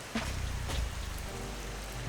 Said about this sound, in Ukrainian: На вулиці дощ